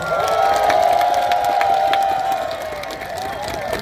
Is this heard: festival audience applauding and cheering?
yes